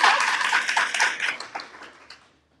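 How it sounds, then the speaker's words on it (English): A short burst of scattered clapping from a small group, dense at first and then thinning out and fading away. "Let's give you a round of applause."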